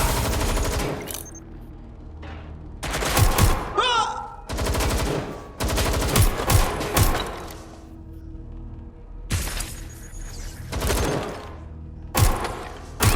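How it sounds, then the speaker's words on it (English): Repeated bursts of loud gunfire in the Watch Dogs Legion video game, several separate volleys and sharp shots spread across the stretch, with brief gaps and some shouted voices mixed in. "Incoming fire!"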